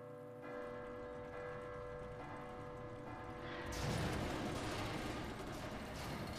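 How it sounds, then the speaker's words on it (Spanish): Church bell in the Resident Evil 2 Remake video game, rung by pulling a chain: a sustained humming tone gives way to a sudden loud clanging crash that rings on, heard without speech. "Y ahora eso voy a mover la cadena. Y bueno, la campana, digo."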